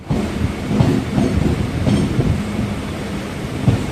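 Chennai Beach to Chengalpattu local train running on rails, a steady rumbling roar from inside the carriage with rhythmic wheel clatter over the joints and no talk.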